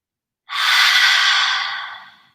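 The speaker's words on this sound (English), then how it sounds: "Inhale up. Exhale down." A single loud, close breath during a seated shoulder-shrug stretch, a strong airy rush that rises quickly and fades over about two seconds, with no voice over it.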